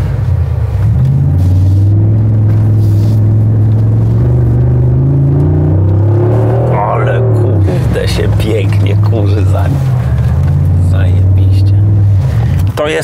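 A Brabus XLP Adventure 800 G-Class pickup with 800 horsepower drives on desert sand near Dubai, a loud, steady low engine rumble inside the cabin while people talk over it.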